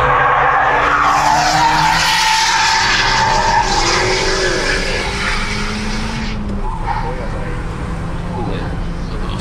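Tires slide and squeal under a turbocharged car on a race track, a long, loud screech over a steady engine roar that eases slightly toward the end, with talk over the top.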